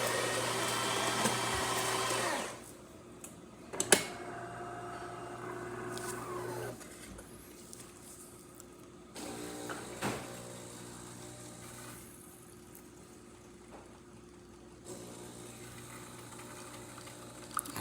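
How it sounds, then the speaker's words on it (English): A Delonghi Prima Donna espresso machine with a new pump brews a shot. A loud, steady pumping hum opens, then drops to a quieter brewing whir, broken by clunks and several pulses of pumping. "As you see, nice steady stream coming out through the spouts, excellent flow, and really good crema on top of that shot."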